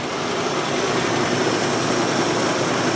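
A Plymouth Barracuda, revived after sitting for 27 years, idles at about 1,200 RPM with a steady, even rumble from start to finish and no voices over it.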